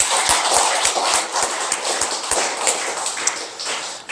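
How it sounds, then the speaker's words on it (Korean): A church congregation applauding together during a Sunday worship service, a dense, steady wash of many hands clapping close by, with a rhythmic beat of taps running through it and no break. "우리 하나님께 감사의 박수 올려드리겠습니다"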